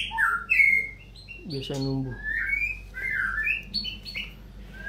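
A murai batu, or white-rumped shama, gives bright whistled calls and a harsh squawking burst nearby, with someone talking briefly over the start.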